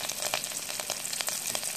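Curry leaves crackle and sizzle in hot oil and butter for a dal mash tadka with cumin, a close, steady frying hiss broken by sharp pops at an irregular rhythm.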